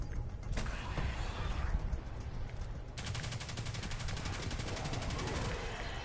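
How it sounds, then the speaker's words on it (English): Rapid mechanical clattering and bursts of gunfire in a video game, with a dense rattling rhythm through the second half, loud and continuous, around a rocket launcher being fired. "Step into my rocket launcher."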